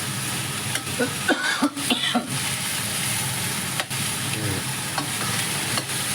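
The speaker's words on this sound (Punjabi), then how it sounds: "ਹੁਣ ਸ਼ਿਮਲਾ ਮਿਰਚ ਪਾ ਲਾਂਗੇ" Bell pepper is stirred into a sizzling spice mix in a pan: a steady fry hiss runs throughout, with clattering stirring scrapes up close and a brief cough, but no speech.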